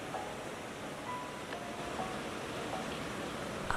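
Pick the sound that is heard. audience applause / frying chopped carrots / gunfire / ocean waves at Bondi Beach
ocean waves at Bondi Beach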